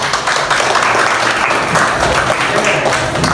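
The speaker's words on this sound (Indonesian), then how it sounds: "Kita kasih tepuk tangan." Dense, steady applause from a group, continuous clapping filling the whole moment without a break.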